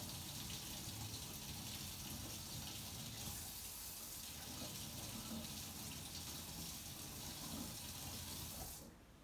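Hot water runs steadily from a tap over a resin coaster, a constant close splashing rush that cuts off abruptly at the end.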